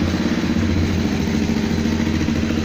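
A 2013 Honda CRF250L motorcycle idles with a soft, quiet exhaust, a close, even, low engine putter with a light mechanical clatter and no voices.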